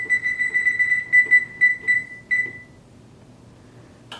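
A kitchen oven timer beeps while asparagus roasts, giving a quick, evenly spaced run of bright electronic beeps for about two and a half seconds before it stops and quiet background remains.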